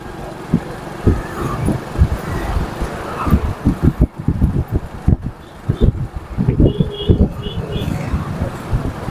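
Heavy road traffic passes near the Krishna river in Vijayawada. Vehicles go by close in uneven bursts, with knocks and rumbles over wind noise, and there is a short tonal chirp partway through.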